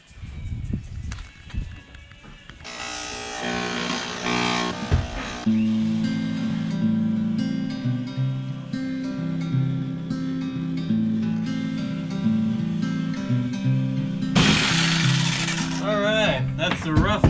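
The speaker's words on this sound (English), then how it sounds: "Jigsaw." A jigsaw cuts a hole in a motorcycle trailer wall for an air conditioner install, giving a loud, steady buzzing rasp that runs for most of the stretch after a brief quieter start.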